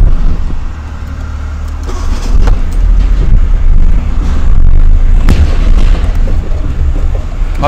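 A Suzuki Mehran manual car pulling away in first gear, a loud low engine and road rumble filling the cabin steadily with occasional heavier thumps and no clear speech.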